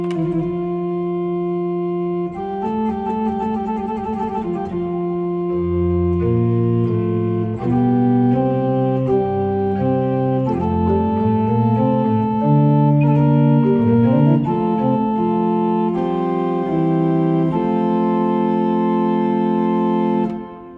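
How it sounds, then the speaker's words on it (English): A pipe organ is played with gedackt 8 and principal 4 stops, sounding as a continuous, clear and steady stream of sustained chords and a moving line for about twenty seconds, with no talking, before the sound releases. "So I would play it with, on this organ, with a gedeckt 8 and the principal 4."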